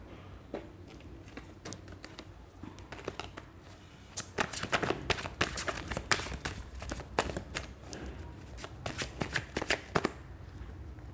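Tarot cards are shuffled and drawn in a quiet room, starting sparse and then turning into a fast run of crisp flicking riffles, close and soft, with no talk.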